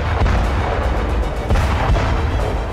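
Explosions in the city of Mykolaiv, Ukraine: a loud, rumbling run of booms and blasts, several heavy bursts close together over continuous roaring noise.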